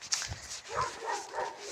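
Dogs barking in the distance outdoors: a few faint, scattered barks and yips spread across under a second and a half of quiet background noise.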